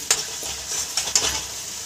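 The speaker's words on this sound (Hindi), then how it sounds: "इस तरह से आपको अच्छे से मसाले को मिला लेना है" Turmeric and mixed spices are stirred in a pan over a low flame, with a soft continuous sizzle and several scraping strokes of the spoon.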